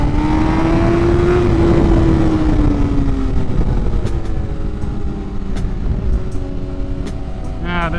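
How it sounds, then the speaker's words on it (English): BMW S1000RR sport motorcycle ridden quickly on a twisty road, with a loud engine tone that rises and then eases back, all under heavy wind rush, and a brief high whine near the end. "being on the motorcycle going pretty quick"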